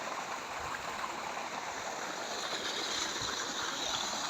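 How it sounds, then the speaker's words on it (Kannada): Water from borewell and well motors rushes steadily and continuously on farmland, like a canal running close by, with an even, full-bodied flow and no voices. "ಕಾಲುವೆ ನೀರು ಹೋದಂಗೆ ಹೋಯ್ತಾ ಇದೆ ನೋಡಿ."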